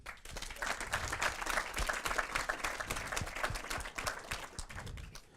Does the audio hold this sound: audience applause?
yes